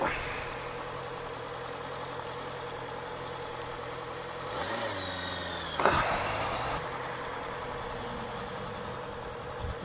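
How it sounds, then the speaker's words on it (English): Ford Focus fitted with a big aftermarket exhaust on Blackpool Promenade, a mid-distance engine rising into a sharp rev and falling back, heard over steady traffic and street ambience. "It's a bloody Ford Focus"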